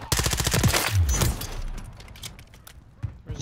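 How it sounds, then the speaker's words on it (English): Automatic gunfire in Modern Warfare III hardcore team deathmatch: a loud, close rapid burst in the first second and a half, then quieter scattered shots and movement sounds. "Guy comes right around the corner and just automatically shoots right at me up in the building."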